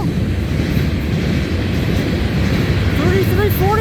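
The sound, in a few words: CN freight train distributed power locomotive passing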